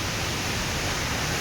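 Kanoor Falls, a waterfall near Yellapur in Karnataka, heard as a steady, dense roar of rushing water that continues unbroken and close throughout.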